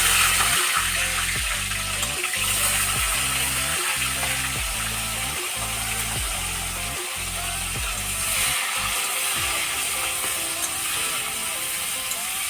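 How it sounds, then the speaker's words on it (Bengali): Fish pieces fry in hot oil with a loud, steady, bubbling sizzle, close up, under a low rhythmic mechanical hum that pulses and then fades; no one speaks. "তেল গরম হয়ে গেছে, তো এখন মাছগুলো সব দিয়ে দেওয়া হবে।"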